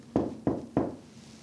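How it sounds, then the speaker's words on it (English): Three evenly spaced knocks on a surface in a reportedly haunted hallway, each a dull, close thud followed by quiet, with no voices between them. "If anything's up here, can you knock?"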